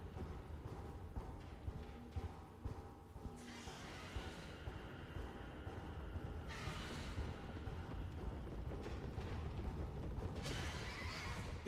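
A horse neighs and whinnies inside the horror game Mouthwashing, a loud drawn-out whinny over a dense, droning ambient bed, with brighter bursts recurring across the stretch and no talking.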